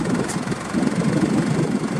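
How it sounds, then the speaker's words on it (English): Steady gasoline engine of a Datsun FG103 3,000 pound pneumatic tire forklift idles close by, a continuous low rumble with a faint rhythmic knock and no other sound. "Has a good running gasoline engine."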